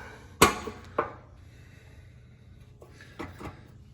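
The toolbox on a 1949 James 98 cc two-speed barn-find motorcycle being opened, making a sharp metallic clack followed by a second knock and a few softer rattles and clicks, close up with no talking.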